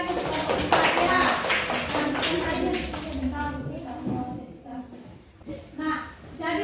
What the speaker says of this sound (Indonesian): Kita kasih tepuk tangan lagi sekali lagi untuk kelompok 4 ya